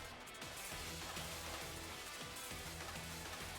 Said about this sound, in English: Ooh, Rain Dance, okay.